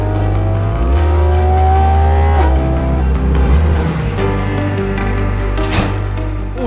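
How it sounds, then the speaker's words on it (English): A Porsche Cayman GT4 RS engine revs hard and climbs through the gears, loud and close, with rising and falling tones and a brief whoosh near the end. "on engine sound alone, I could probably stop this test here and declare the Cayman the winner"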